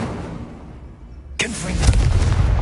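An Incendio fire spell goes off in a Harry Potter video game: after a quiet stretch, a sudden loud whooshing burst of flame bursts in and keeps roaring and crackling to the end.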